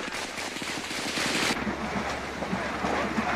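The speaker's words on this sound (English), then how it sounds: "Snipers up there are shooting at anybody." Sniper gunfire from a tall apartment complex beside the PDF headquarters during the Panama invasion: loud, dense bursts of rapid shots crackling throughout, with no speech.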